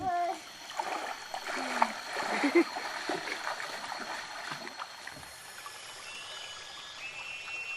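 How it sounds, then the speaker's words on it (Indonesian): Children in the forest swing from tree roots and drop into a clear, cold river, making splashes and swirling water sounds close by, while a narrator talks over them and high tones run through the background. "Lihat saja Bekajang dan Bejeling berayun di akar pohon dan menjeburkan diri ke sungai yang jernih dan dingin airnya."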